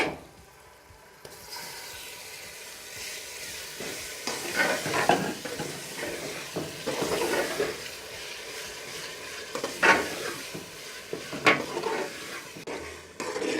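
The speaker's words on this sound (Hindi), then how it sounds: "दो से 3 मिनट तक हम कीमे को भूनेंगे।" Pakistani-style chicken keema fries in a pan while being stirred, a continuous close sizzle broken by scraping spoon strokes and occasional clinks against the pan.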